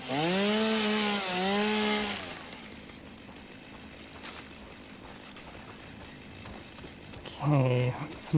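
A chainsaw in the video game Satisfactory revs loudly and cuts trees, two sustained whining bursts at the start, then a low background hum, with a voice speaking near the end.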